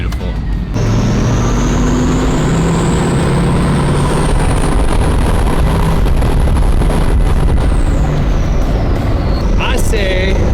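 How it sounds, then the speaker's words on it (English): Hummer truck turbo spooling up, a loud continuous whine rising steadily in pitch over several seconds then tapering off, layered over heavy engine rumble and wind buffeting. "listening to this turbo spool up"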